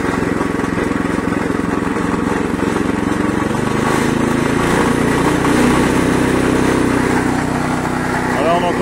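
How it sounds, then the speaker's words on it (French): An Oxeo 760312 garden shredder's small engine runs steadily at a constant, even pitch, loud and close, with a voice talking over it partway through. "on entend bien, le moteur tourne rond"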